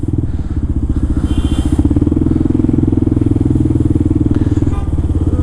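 Dual sport motorcycle engine riding through New York City traffic, a close, steady, rhythmic thumping exhaust pulse with little change in pace, with a voice talking over it.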